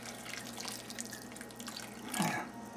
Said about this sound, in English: So I'm going to add some more water to this.